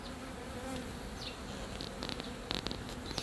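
A steady, close swarm of bees buzzes around a hive being relocated, a dense continuous drone, with a few individual bees zipping louder past the microphone near the end.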